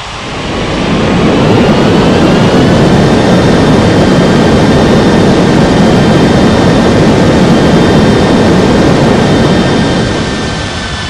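Jet airliner engines roar loud and steady as the plane lands on a runway in an air traffic control mobile game, a broad rumbling swell with a faint whine, fading in and out over about eleven seconds with no talk.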